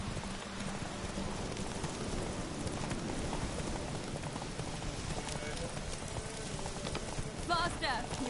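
Horse hooves gallop continuously in the Witcher 3 video game, a steady drumming clip-clop under a busy ambient wash, with a few faint game sounds toward the end.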